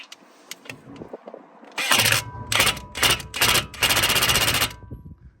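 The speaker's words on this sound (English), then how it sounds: "Now he's going to just see it with the impact gun, just tighten it up." A pneumatic impact gun tightens a replacement tie rod end on a 2008–2015 Toyota Avensis T27, firing four loud, close, rattling bursts in quick succession after a quiet start.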